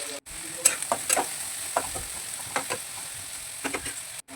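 Chopped onions hiss and sizzle in hot oil in a frying pan while preparing a garlicky cabbage dish, with a steady frying crackle and scattered clicks of a utensil stirring against the pan, close and moderately loud.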